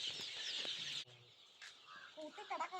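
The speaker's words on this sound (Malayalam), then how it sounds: "അപ്പോൾ ഇതിൽ കുറേ നാടൻ കോഴിക്കുട്ടികളുണ്ട്" Native country chicken chicks give faint, high peeping chirps, scattered and soft, with louder bird noise at the start and then a quieter stretch of small cheeps.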